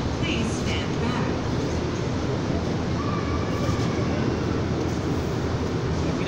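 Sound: DART light rail train arriving at station

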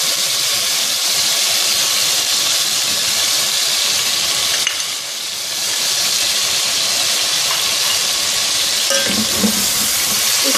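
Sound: chicken frying golden in a pot for pulao

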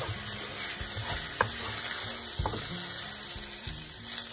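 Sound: rice sautéing with vegetables in a pot

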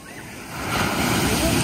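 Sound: sea waves breaking on the shore

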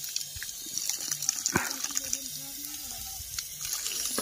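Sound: washing hands under running tap water

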